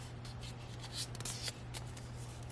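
A sheet of paper is folded in half for a junk journal, giving soft, close scraping and rustling strokes, with a couple of slightly louder creasing swipes. No voices are heard over a faint steady hum.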